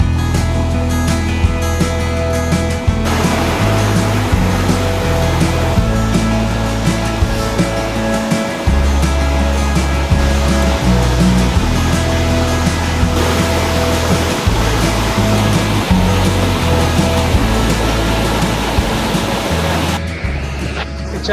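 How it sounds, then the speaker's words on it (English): A waterfall in Patagonia, reached on a short hike, roars as a loud, dense, continuous rush of falling water that fills the whole scene without a break. "now we're taking a short hike to a waterfall"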